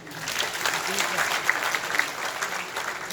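Audience applause at a stand-up comedy show at CGC University, a steady crowd clapping throughout at moderate loudness, with a few voices faintly audible underneath.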